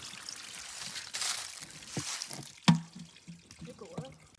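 Water pours and trickles into a bottle at a hiking trail water source, splashing in uneven bursts with a sharp gurgle midway, close and fairly quiet.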